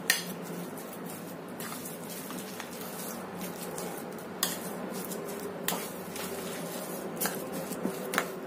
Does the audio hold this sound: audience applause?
no